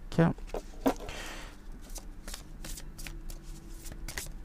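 A deck of oracle cards being cut and shuffled, quick riffling bursts and soft slaps of cards at close range, with a voice briefly heard alongside.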